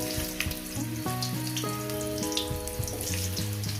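Potatoes going into hot oil already crackling with dried red chillies, a steady hissing sizzle spread across the sound, partly masked by a louder melodic music track playing over it, with no one talking.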